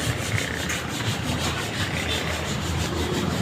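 Wood being sanded by hand with sandpaper during a restaurant renovation: a steady, continuous rubbing rasp with no pauses, fairly close and moderately loud, with no talking.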